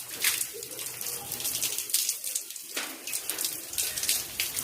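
Water gushes steadily from a thick six-inch pipe while hands and feet are washed under it, a continuous broadband splashing with a few louder surges, birds faintly audible behind.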